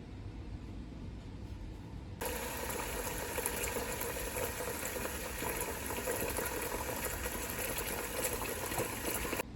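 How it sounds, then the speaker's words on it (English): Pea water is drained and fresh water run in. Quiet background gives way suddenly to a loud, continuous rushing gush of running water that lasts to the end. "I am going to throw off this water from the peas and catch some fresh water"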